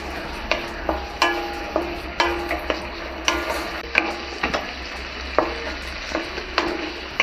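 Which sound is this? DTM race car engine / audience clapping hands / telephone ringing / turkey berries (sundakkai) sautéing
turkey berries (sundakkai) sautéing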